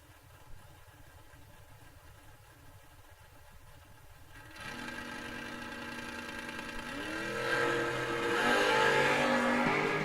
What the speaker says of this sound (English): Here comes that Camaro barreling down in.